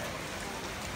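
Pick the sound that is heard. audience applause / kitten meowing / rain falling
rain falling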